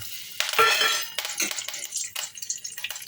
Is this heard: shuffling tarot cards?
no